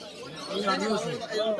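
Indian Lahori pigeons at a crowded market coo in soft, rolling calls, near and steady, with murmuring voices around them.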